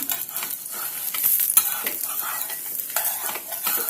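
A dosa sizzles in oil on a hot pan, with a steady crackling fry and occasional scrapes and clinks of a utensil against the pan, close and moderately loud.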